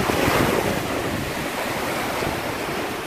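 Winter sea waves crash against seafront houses in Little Venice, a loud, continuous roar of surf with strong wind buffeting the microphone throughout, close and unbroken.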